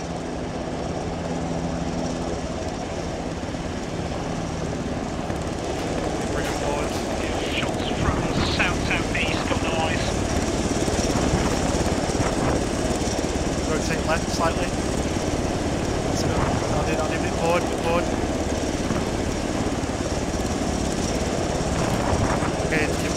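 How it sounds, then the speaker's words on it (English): A helicopter sets down between buildings in the military game Arma 3, its rotor and engine drone a steady, loud, continuous roar that fills the whole stretch while voices talk over it. "Heli's on the ground."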